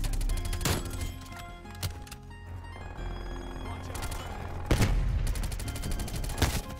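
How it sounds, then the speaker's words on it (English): Automated sentry gun fire in the Call of Duty Black Ops Cold War multiplayer shooter, dense sustained bursts with loud sharp shots in a busy game mix. "There's a sentry gun."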